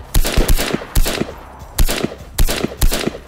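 Gunfire in the survival game DayZ: rapid bursts of loud, close shots in quick clusters separated by brief pauses, sharp and punchy with no talking.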